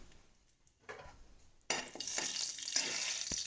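Bay leaves drop into hot oil in a pan, starting from near quiet to a sudden bright sizzle that then holds steady and close, with faint clinks of utensils before it.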